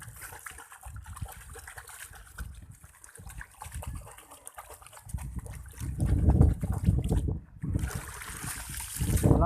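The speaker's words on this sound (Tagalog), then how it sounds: "Walang bagyo pero malakas yung hangin." Strong wind roars and gusts across an open mic on a farm, building in loud surges with a watery, rushing texture underneath.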